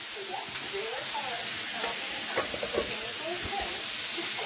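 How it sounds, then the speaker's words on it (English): Chips frying in lard in a chip pan give off a steady, moderately loud sizzle and bubbling hiss that runs throughout, with a few faint clinks. "Chips in a chip pan, cooked in lard."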